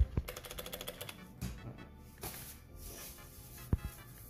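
Keys on a new mechanical keyboard clatter in scattered clicks and short bursts, close by, with a few louder sharp taps.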